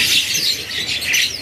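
A green lovebird at a bird market chirps in a steady, high-pitched twitter that runs through the whole moment, with soft background hum and no voices.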